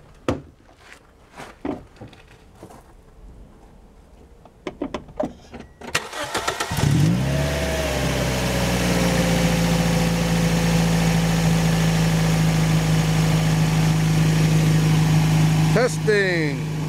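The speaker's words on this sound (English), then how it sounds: "Cranking test, start engine." A car engine is cranked and catches at about six seconds during a battery cranking test, then settles into a loud, steady idle that runs to the end. Brief talk and handling noises come before the start.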